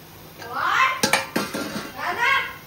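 Tomatoes tipped into a pan of onions for masoor dal, with clattering metal utensil knocks and a scraping stir in the middle, surrounded by brief sizzling bursts.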